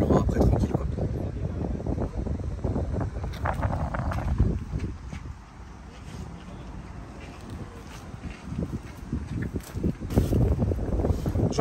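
Strong wind buffets the microphone outdoors near water, a rough, gusting roar that rises and falls throughout while someone talks over it.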